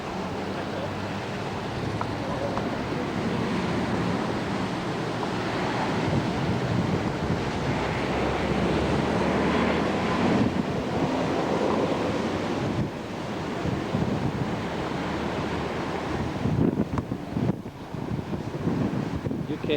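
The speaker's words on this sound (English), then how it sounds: "More high surf." High surf on the North Shore of Hawaii, a continuous roar of breaking waves buffeted by strong wind noise on the microphone, loud and unbroken with a few gusty swells.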